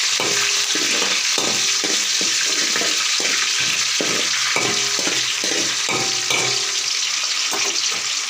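Urad dal and curry leaves fry in a pan for South Indian pudina rice, a constant hissing sizzle with a run of short rhythmic stirring strokes close by.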